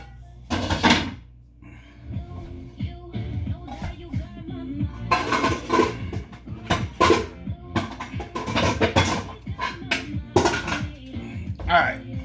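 Pots and pans clatter in a home kitchen as cookware is shuffled around in search of a smaller pan, with sharp metallic clanks in bursts between stretches of speech.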